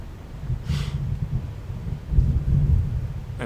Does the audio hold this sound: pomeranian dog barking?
no